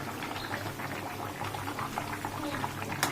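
Pot of potatoes and pumpkin, with taro, boiling steadily for a Bengali vegetable curry, a close, continuous bubbling with no talk over it.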